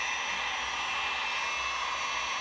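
A heat gun blows in a steady, loud, broadband whoosh with a faint whine on top while drying milk paint, continuous and unbroken throughout with no talking.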